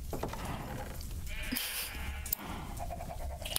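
A sheep bleats in a two-player survival video game, a short bleat heard among other game sounds and background noise.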